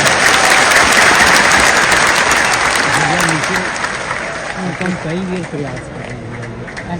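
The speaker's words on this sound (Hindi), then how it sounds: "ताली जोर से बजा दें, जोर से ताली बजाएं।" Loud, dense applause from a large crowd at a political gathering, steady for the first few seconds and then easing slightly, with a voice speaking over the clapping in the second half.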